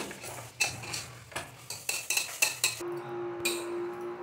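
A spoon scrapes and knocks rhythmically against a pan while stirring sweet modak filling with cardamom powder, a series of close metallic strokes that ends in a quieter sustained tone.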